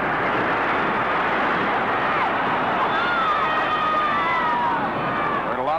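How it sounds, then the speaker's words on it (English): A large 1952 Madison Square Garden roller derby crowd roars in a continuous, dense wash of cheering and babble, with faint whistles rising through it. "Heard a lot of noise from this crowd."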